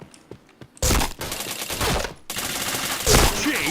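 Rapid video-game gunfire during a live stream session, bursts of loud automatic shots packed into dense volleys with a brief gap between them.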